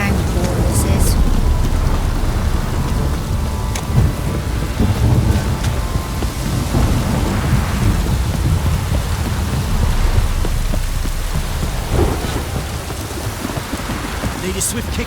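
Rain pours in The Witcher 3: Wild Hunt during a thunderstorm, a loud dense downpour with low rolling thunder rumbling beneath it, steady throughout with occasional sharper splashes.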